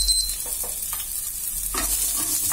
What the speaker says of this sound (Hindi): तेल हमारा गर्म हो चुका है, डाल देते हैं कटी हुई सब्जियां।